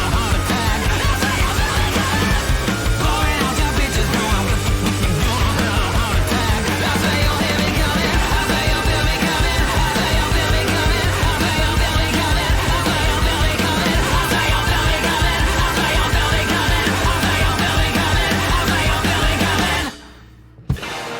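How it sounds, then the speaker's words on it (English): Distorted electric guitar screams through a dense, loud rock mix from a song, playing continuously for about twenty seconds before cutting off abruptly near the end. "That guitar is just screaming in my left headphone."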